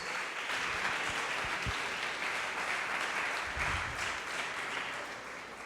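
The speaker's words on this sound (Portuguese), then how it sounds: "Pode aplaudir e glorificar o Senhor Jesus." A church congregation applauds together at a Portuguese-language evangelical service, a steady wash of many hands clapping that holds evenly throughout, with a few low thumps underneath.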